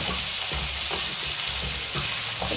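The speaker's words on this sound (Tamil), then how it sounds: "வெங்காயம் இப்படி 6 வேக்காடு வெந்த பின்னாடி பச்சை மிளகா போடணும்." Onions and green chillies fry in a pan while making potato masala, giving a loud, steady sizzle and crackle at close range, with faint stirring scrapes and no talking.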